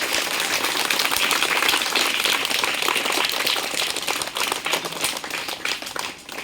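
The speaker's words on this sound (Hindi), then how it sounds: "जोरदार ताली हो जाए" Dense, sustained applause for a third-prize winner at a primary school class 1 results and gift event, many hands clapping together in a steady roar that thins slightly toward the end.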